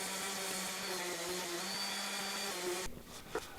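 A power sander whines steadily close by, sanding excess epoxy off a live edge slab bench, a continuous buzzing hum that cuts off near the end, leaving a few light knocks.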